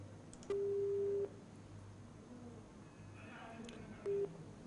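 A telephone busy tone after a phone call drops beeps twice, a long steady tone then a shorter one, over faint background hum and quiet murmuring.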